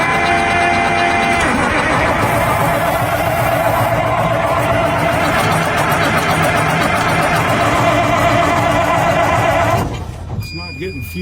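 A frozen D355 bulldozer engine cranks steadily without catching, a loud continuous mechanical churn that runs for about ten seconds before dropping off sharply near the end.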